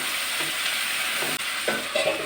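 Vegetables with turmeric and salt sautéing in a pan, a steady close sizzle with soft stirring scrapes breaking through near the end, no voices.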